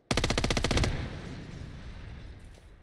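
A P90 submachine gun firing in a first-person shooter video game, a rapid close burst of about a dozen shots under a second, followed by a fading reverberant tail.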